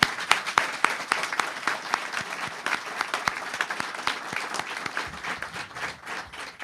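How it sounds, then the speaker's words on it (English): Audience applause at an award ceremony for scholarship winners, a steady patter of many hands clapping together that carries on for several seconds before slowly thinning out. "that is worthy of a great round of applause"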